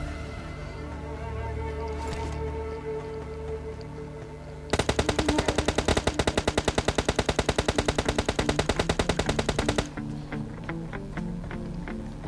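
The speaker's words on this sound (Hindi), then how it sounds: "अब सामने से भी फायरिंग आई थी" Gunfire in a video game: a long rapid burst of automatic fire, dense evenly spaced shots lasting about five seconds, loud over a droning game soundtrack, with a few scattered shots before and after.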